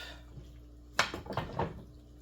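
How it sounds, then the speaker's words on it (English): Pasta is mixed in a bowl with pasta water in a home kitchen, giving a sharp clink of utensil on dish and then a few softer scraping, wet stirring knocks, close and quiet. "we're just gonna mix this all up"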